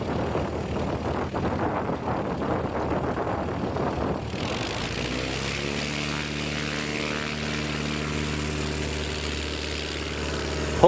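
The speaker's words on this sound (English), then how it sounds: "Pulls early and away he goes. Sensational takeoff." A STOL aircraft takes off at a competition, its propeller engine droning loud and steady, then rising in pitch as it powers away from the ground.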